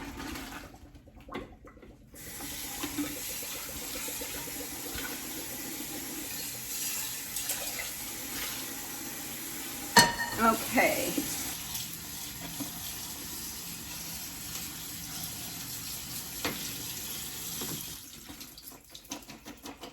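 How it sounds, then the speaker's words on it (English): Cold tap water runs steadily over drained linguine in a kitchen sink, a continuous splashing hiss with a louder burst of splatter midway; a voice speaks a single brief word. "I'm running it under cold water to stop the cooking process"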